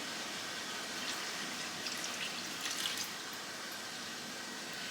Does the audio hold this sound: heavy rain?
no